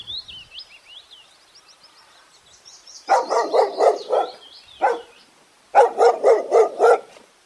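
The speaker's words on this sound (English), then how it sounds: "D for dog." A dog barks in two rapid bursts of about five loud, close yaps each, with a single bark between them, after a stretch of high chirping tones at the start.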